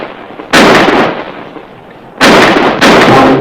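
Three loud, sharp gunshots ring out in a Western TV series, one alone and then two in quick succession, each with a short echoing tail.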